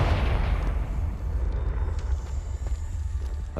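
A Confringo blasting spell cast in the video game Hogwarts Legacy, a heavy booming explosion with a deep rumbling tail that fades over a few seconds, followed by faint lighter crackles.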